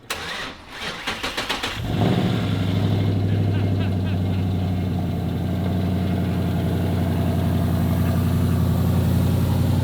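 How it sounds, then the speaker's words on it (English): Ford Mustang Boss 302 V8 cranking with a rapid starter chug for about two seconds, then catching into a loud, steady, rumbling idle that holds close and continuous to the end, with some voices faintly underneath. "now we can get the clutch pressed all the way down and it cranks"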